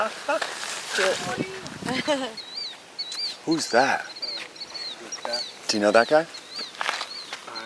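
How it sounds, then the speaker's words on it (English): Birds chirp in short repeated high calls over outdoor ambience, while people talk nearby. "hearing the birds chirping"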